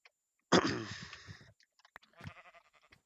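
A sheep in the video game Minecraft lets out one loud, close bleat, followed by a quieter, shorter second bleat and some faint small in-game sounds.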